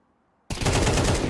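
Sudden burst of rapid automatic gunfire from a Counter-Strike match in a women's European Pro League esports game, starting after near silence and continuing loud and dense to the end.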